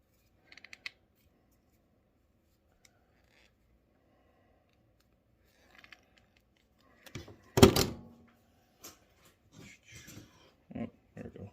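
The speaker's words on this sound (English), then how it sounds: "We're going to cut the wire." Electrical wire is cut with a few sparse snips and clicks, followed by a louder crunching thunk and some scattered handling noises against otherwise near silence.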